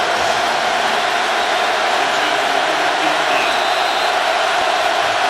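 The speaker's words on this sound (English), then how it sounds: "And they are roaring after that interception was negated." A record stadium crowd of over 91,000 at a Miami–Nebraska college football game in Lincoln roars in a dense, continuous, loud wash of noise with no breaks.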